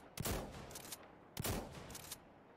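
Two heavy shotgun blasts in the game Insurgency Sandstorm, each a sharp loud crack followed by a short rumbling tail and echo, about a second apart, with no talking.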